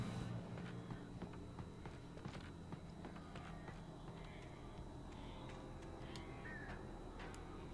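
Crows caw in the Alan Wake game, several harsh calls scattered among footstep-like clicks over a low, steady ambient rumble, fairly faint.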